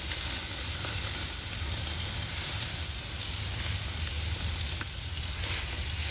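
Steaks sizzle on a Coleman Sportster portable camping grill, a steady, close, even hiss of frying that runs unbroken throughout with no talking.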